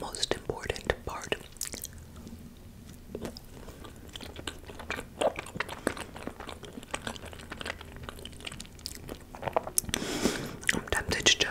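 Close-up eating of freezer-burned rainbow cake coated in chocolate: soft bites, chewing and occasional crunches heard near the microphone in a quiet setting, with faint whispered asides between mouthfuls.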